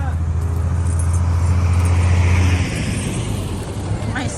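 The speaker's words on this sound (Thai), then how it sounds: "รถมาแล้วครับรถใหญ่มาก" A very large vehicle rumbles past on a road, a loud, heavy low drone that fades after a couple of seconds into broadband road noise.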